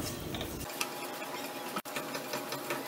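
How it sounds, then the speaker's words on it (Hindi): Cumin seeds crackling in hot ghee in a pan over a very low flame, a soft, steady fine crackle with faint ticks throughout, fairly quiet and close, no talk. "अब इसमें 1 टीस्पून जीरा डालेंगे और जीरे को क्रैकल होने देंगे।"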